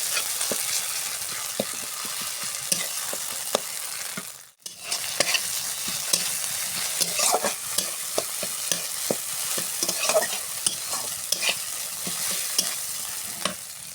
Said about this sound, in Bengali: এবার আমি ফুলটা দিয়ে দেব, দিয়ে আবারও নাড়ব।